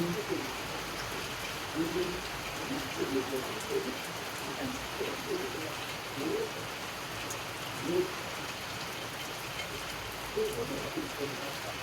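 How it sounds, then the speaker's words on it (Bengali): Heavy rain pouring steadily in a rural village setting, a dense continuous hiss with faint bird calls in the background and no clear voices. "বৃষ্টি শুরু হয়ে গেছে"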